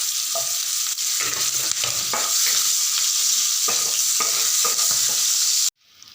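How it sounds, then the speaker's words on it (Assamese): Onion and bhut jolokia chilies fry with panch phoron in hot oil, a close, steady sizzling hiss with stirring scrapes throughout, cutting off abruptly near the end. "পাঁচফোৰণ যোগ কৰি দিব। পিঁয়াজ আৰু জলকীয়া দি দিছোঁ।"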